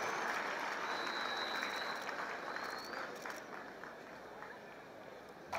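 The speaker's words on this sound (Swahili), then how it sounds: "Tuwape makofi mabibi na mabwana." A large crowd at Narok Stadium for Madaraka Day celebrations applauds in a dense, sustained wash of clapping, distant and reverberant, with a faint whistle carrying over it.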